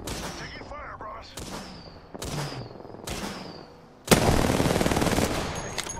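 Gunfire in an Apex Legends ranked match: several sharp separate shots with ringing tails, then a loud sustained burst of rapid automatic fire near the end, with brief in-game voice lines in between.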